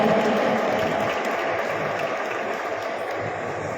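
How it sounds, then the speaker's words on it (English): Audience applause greets the ministers at the inauguration of an international food festival, a dense, sustained clapping that stays loud and steady throughout, slowly easing off toward the end. "Let's have a big round of applause for for the Honorable Ministers once again."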